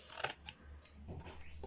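Scissors snip paper for a small book-shaped gift box, making a few quiet, crisp cuts close by in a hushed room.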